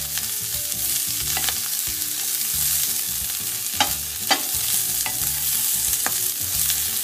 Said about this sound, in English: As you see, my Chinese broccoli is frying right now.